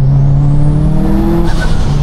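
A tuned 605bhp 2014 Subaru WRX STI pulling hard under acceleration, a loud droning engine note climbing steadily in pitch before easing off briefly, heard from inside the car with no talk.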